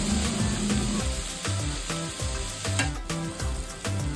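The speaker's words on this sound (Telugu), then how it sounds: "అవి కూడా కొంచెం అట్లా మెత్తబడేంత వరకు ఫ్రై చేయాలన్నమాట." Small carrot pieces fry in a pan for paneer pulao, giving a continuous close sizzle broken by rhythmic scraping and stirring knocks, with no talking.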